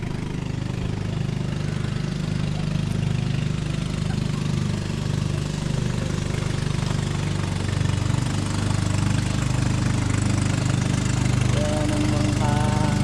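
A bangka boat engine on a river near Wawa Dam, Montalban, Rizal, gives a steady low drone throughout, a constant idling chug with faint chatter and background noise mixed in.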